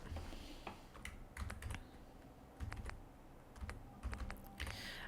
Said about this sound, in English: I love the sound of the clicking, and I just click, click, click.